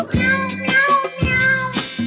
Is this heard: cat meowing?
yes